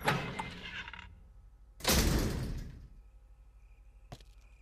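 Enemies open a door in the Resident Evil video game: a loud, heavy burst swells and fades over about a second, followed later by a single sharp click against a quiet background.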